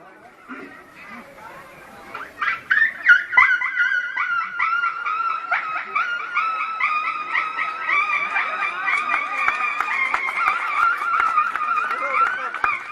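A human voice imitates tiny puppies whimpering and crying in the cold at a village's edge: soft yelps at first, then a sustained run of high, wavering whines and howls, close and fairly loud.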